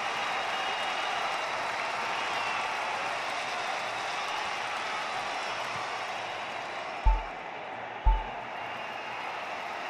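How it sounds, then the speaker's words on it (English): A packed cricket stadium crowd at a Pakistan vs South Africa final keeps up a steady, dense roar of cheering and applause, with two brief low thumps rising out of it near the end. "we have an electric crowd here"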